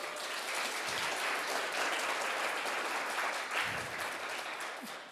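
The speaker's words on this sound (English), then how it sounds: "Please welcome John-san with applause." Conference audience applause welcoming a speaker at a PyCon APAC session in Japan, a broad, continuous patter of many hands at moderate, steady volume for about five seconds, heard alone without talk.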